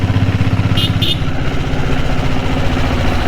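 A diesel Bullet motorcycle engine runs with a rapid, even thumping beat and mechanical cam clatter over it, loud and close throughout, with a brief high squeak near the start.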